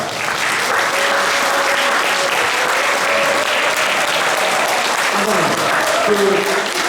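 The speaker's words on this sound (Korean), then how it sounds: "우리 윤상현 국회의원을 먼저 열렬한 박수로 간증을 초대하겠습니다" Sustained, loud applause from the audience at a 2022 Turn Toward Busan memorial ceremony for UN Korean War veterans in Busan, welcoming a National Assembly member to give a testimony, with steady clapping and voices mixed in throughout.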